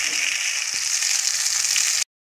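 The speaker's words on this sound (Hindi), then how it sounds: "देखो ऑयल गरम हो गया है, देखो जो मैंने टमाटर वगैरह उसको पीसा था मैं इसे डाल दूँगी इसमें।" Ground tomato paste sizzles in hot oil, a steady loud frying hiss lasting about two seconds with a faint clink, then cutting off abruptly to silence.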